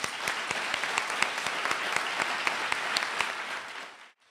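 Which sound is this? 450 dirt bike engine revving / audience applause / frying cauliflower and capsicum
audience applause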